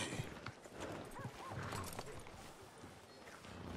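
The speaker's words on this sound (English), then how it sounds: "Well, that horse is not happy," Horse whinnies and stamps its hooves in the Red Dead Redemption 2 campaign, with a few rising neigh calls over a busy, dense game soundscape.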